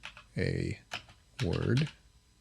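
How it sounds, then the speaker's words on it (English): Typing on a computer keyboard: a few quick key clicks close by, mixed with short voiced sounds from a person nearby. "Let me just type in a word"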